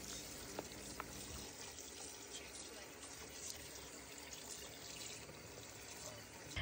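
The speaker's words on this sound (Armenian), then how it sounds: "Հիմա մի լավ լվանում եմ և թողնեմ հոսող ջրի տակ։" Meat rinsed under a running kitchen tap, a steady broadband rush of flowing water lasting throughout with a few faint clicks and knocks, fairly quiet and close, with no talking.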